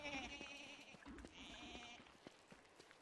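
Goats bleat in the video game Don't Starve, a few faint, wavering calls over quiet game ambience with light footsteps.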